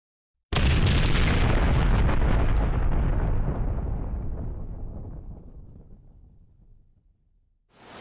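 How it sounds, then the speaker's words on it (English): An underwater nuclear explosion beneath the ocean erupts as a sudden, massive boom, then rolls into a deep, roaring rumble that fades slowly over about seven seconds before a fresh surge begins at the very end. "suddenly thrown into chaos by the nuclear explosion"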